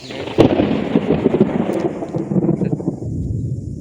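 Thunder from a rainstorm over open farmland rolls and crackles loudly, a sharp clap at the start followed by a long rumbling decay, with rain hissing steadily underneath.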